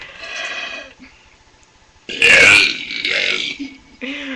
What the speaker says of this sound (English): can you make us a Tom Cowlitz burp?